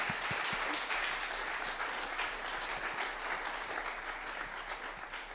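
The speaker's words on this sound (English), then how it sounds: "we're also giving an applause to André." Sustained audience applause fills the hall at a Bitcoin conference, dense and loud from start to finish, tapering only slightly toward the end.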